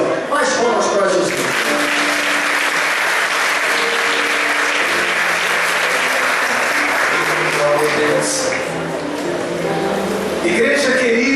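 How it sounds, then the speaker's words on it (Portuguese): A church congregation bursts into sustained, loud applause at a Brazilian evening service, dense clapping filling the room with cheers and voices mixed in throughout. "Mais palmas para Jesus."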